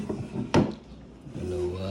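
A wooden vanity drawer in a room being shown off slides open or shut with one quick close thump, while a person talks quietly around it.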